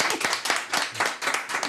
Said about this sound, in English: I'll give him a clap for that.